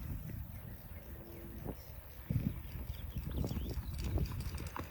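A horse loping in circles gives soft, rhythmic hoofbeats at a distance, a muffled repeating clip-clop beneath faint outdoor background noise.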